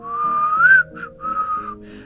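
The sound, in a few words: person whistling innocently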